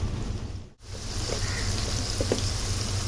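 A ground paste of chilli, cumin, ginger, garlic and tomato fries with onions in hot oil, giving a loud, steady sizzle that briefly cuts out and then resumes fully.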